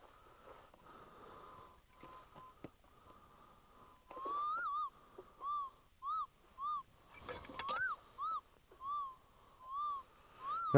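A Minelab Eureka Gold metal detector sounds a series of short warbling tones that rise and fall, repeating roughly every half second over a dry wash in the field, faint against a quiet outdoor background.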